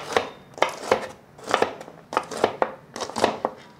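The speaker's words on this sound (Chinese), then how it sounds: "把丑豆切碎" A knife chops trimmed okra on a cutting board in quick, close bursts of rhythmic strokes, pausing briefly between rounds.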